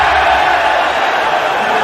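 Crowd at the 2021 Mosconi Cup pool match erupts in loud, sustained cheering and roaring, a dense continuous wall of voices with no break.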